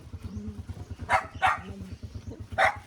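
A dog barks three times in short bursts, close by, with a low steady hum and faint murmuring voices in the background.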